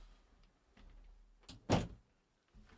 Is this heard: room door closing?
yes